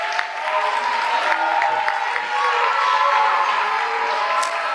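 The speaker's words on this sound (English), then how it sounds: "Let's make a huge applause for the person coming here." Audience applause and crowd noise at a stage show as a volunteer comes forward, a steady dense wash of clapping lasting several seconds, moderately loud with no clear voices over it.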